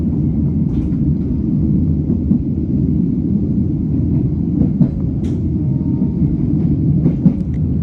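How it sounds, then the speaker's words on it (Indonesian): The Kedung Sepur passenger train runs through Semarang Poncol station without stopping, a loud, steady low rumble of rolling cars with faint clanks and brief squeals on top. "itu ada rangkaian kereta api Kedung Sepur dari stasiun Semarang Poncol dengan tujuan akhir stasiun Ngrombo"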